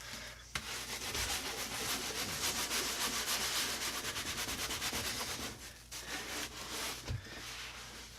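A rag scrubs steadily across an oven surface coated with baking soda and vinegar, giving a continuous close rubbing sound with brief pauses.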